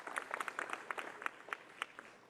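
Applause at a university ribbon-cutting ceremony for Kirksey Old Main, quiet and distant, with scattered individual claps standing out from a soft crowd bed.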